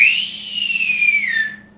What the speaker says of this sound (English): let's give Bev a whistle